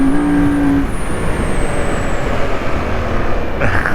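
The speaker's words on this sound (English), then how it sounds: "Motad exhausts are not quiet" A motorcycle fitted with Motad exhausts runs loud and close, a rough sustained engine roar with a whining tone that shifts in pitch as it pulls through the gears, with no talk.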